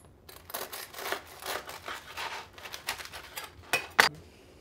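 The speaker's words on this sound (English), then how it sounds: "And we're just gonna cut it, and that's it." A pressed Cuban sandwich with reheated pork and melted sauce, flattened between two cast irons, is cut through with a series of crisp, crunchy scraping bursts, close up, ending in a couple of sharper clicks.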